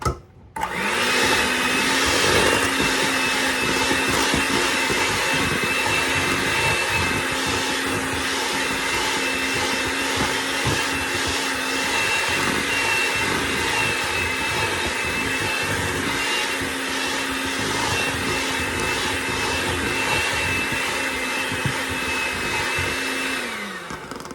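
Electric mixer beating two sticks of softened butter for fruit cake, a loud steady whirring hum that starts abruptly, holds for over twenty seconds and winds down at the end, without talk.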